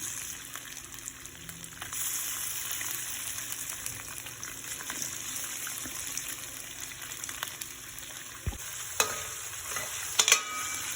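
Marinated prawns frying in a pan for spicy chilli garlic shrimp noodles, a continuous close sizzle with stirring and a couple of sharp clinks near the end, no voices.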